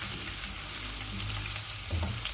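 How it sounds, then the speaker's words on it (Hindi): Garlic ginger paste frying in hot oil in a pan while cooking a khattay aloo potato dish, a steady dense sizzle with light stirring scrapes throughout. "लहसुन अदरक का पेस्ट डाला हमने।"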